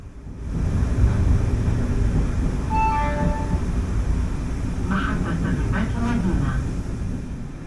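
Morocco's Al Atlas train rumbles steadily as it runs through the trench approaching Rabat Ville Station, a dense continuous low roar with brief high squeals and clatter partway through.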